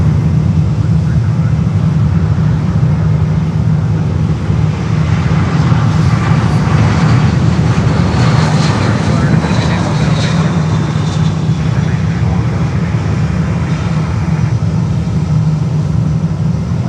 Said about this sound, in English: And there we have JetBlue coming in.